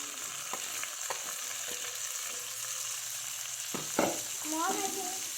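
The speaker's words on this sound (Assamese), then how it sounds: "প্ৰথমে চাউলখিনি ভালদৰে অলপ ভাজি ল'ব লাগিব।" Rice frying in a pan for badam pulao, a steady close sizzle with scattered stirring scrapes and a few louder clatters near the end.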